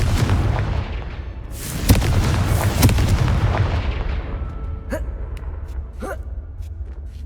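Confringo fire spell exploding in the video game Hogwarts Legacy, a loud booming blast with a rumbling tail that fades, followed by a few short sharp sounds and brief vocal noises.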